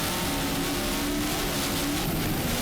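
A twin-engine 40-foot Platinum catamaran with two 1400 horsepower engines, racing in the Superboat Unlimited category, roars loud and steady at close range, a dense continuous engine howl over rushing water.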